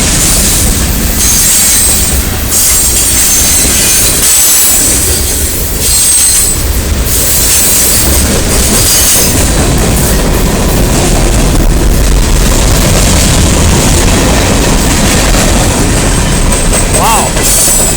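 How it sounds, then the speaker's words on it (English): A train rolling past a campsite, loud and close, with a continuous roar of cars and wheels, rattling clickety-clack and a faint wheel squeal near the end. "I heard the train coming through"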